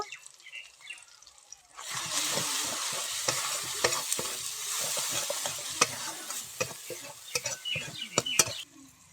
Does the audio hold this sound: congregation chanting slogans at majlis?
no